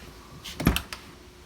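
A 1991 car door, on an Ultra blue 331 with leather interior, banging shut with a sharp close thud and a brief rattle after, fairly quiet overall and without talk.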